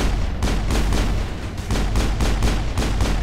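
Rapid, loud gunfire from the Mass Effect video game, a dense run of sharp shots and booms at an even pace, up close with no voices.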